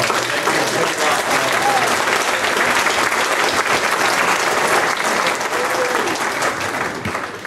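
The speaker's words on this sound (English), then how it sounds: "Just give them a round of applause." A banquet crowd applauds loudly and steadily, a dense wash of clapping that carries on without a break, then begins to taper near the end.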